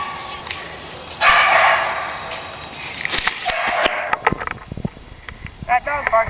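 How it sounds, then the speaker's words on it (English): Dog barking nearby indoors, with a mix of short barks, yips and sniffing sounds scattered over several seconds. "That dog barking."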